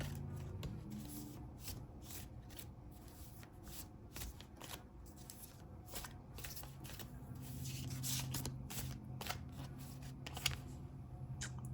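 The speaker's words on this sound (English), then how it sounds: "Let's draw a couple more tarot cards." Tarot cards are shuffled by hand over about twelve seconds, a quiet irregular flutter of riffling and slapping card edges with a brief louder snap near the end; no talking.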